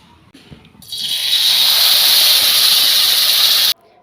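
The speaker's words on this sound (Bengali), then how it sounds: "ম্যারিনেট করা মাছ দিয়ে দেব।" Marinated prawns hitting a hot pan, a quiet start then a sudden loud, bright hiss of sizzling that holds steady for about three seconds before cutting off abruptly, close and without talk.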